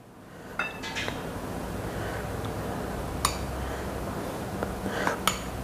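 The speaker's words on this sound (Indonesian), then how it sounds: "Kita aduk." A spoon stirs a batter of eggs and wheat flour in a bowl, giving a steady wet churning under sparse light clinks of metal against the bowl, nearby and moderately loud, with no talking.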